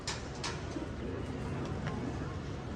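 Pigeons give soft, low coos close by over a steady background hiss.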